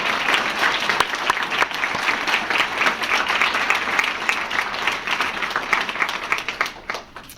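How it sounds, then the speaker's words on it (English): A ceremony audience at a children's book award gives a sustained round of applause for the authors, dense steady clapping that holds for several seconds before fading at the end. "how about one more round of applause for everybody, their books and their thoughts today"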